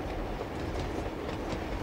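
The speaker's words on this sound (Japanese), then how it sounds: "暴走列車。" Runaway train in the Uncharted video game: a continuous rumbling, rattling rush of rolling rail cars with faint clattering, steady and fairly loud throughout.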